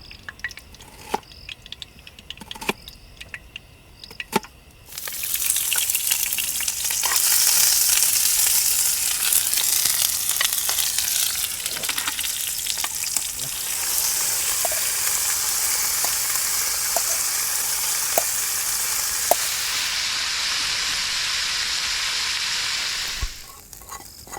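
Green beans sautéing in a little oil in a pan at a motocamping site; after a few clinks a loud, close sizzle bursts in, crackles steadily with stirring, then cuts off near the end.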